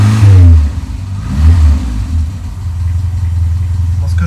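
A car engine, its idle just adjusted and not yet warm, revs up loudly at first, then settles into a steady, deep running hum with a brief second rise, close by.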